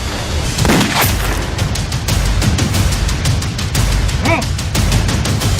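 Rapid bursts of gunfire crack loudly and repeatedly over a dense, noisy background, with a brief voice-like tone near the end.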